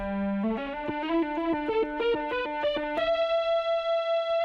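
A lead line played on a Voyager keyboard synth runs through a Big Sky reverb pedal with cabinet emulation, giving a distorted, guitar-like tone: a quick run of stepped notes that ends on one long, bright held note.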